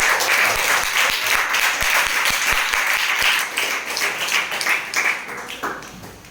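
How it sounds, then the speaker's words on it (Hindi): Loud applause from a classroom of students, sharp claps rising in a dense burst before thinning and fading toward the end. "नृत्य के भांति वो जोरदार तालियां बजाकर"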